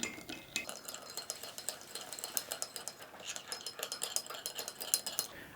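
Lukewarm water and yeast being stirred together for pizza dough, with a spoon clinking steadily against the bowl in a quick, busy rhythm, close and fairly quiet, with no talking.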